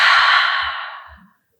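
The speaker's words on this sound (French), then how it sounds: "Inspire. Bouche ouverte. Expire." A single long breath is exhaled through an open mouth during a yoga class, a close, airy sigh that fades out smoothly.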